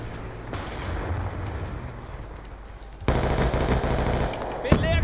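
Sustained automatic gunfire in Call of Duty Black Ops 2 multiplayer rattles in dense bursts with a sharper, louder volley near the end, harsh and close.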